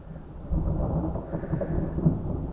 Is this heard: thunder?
yes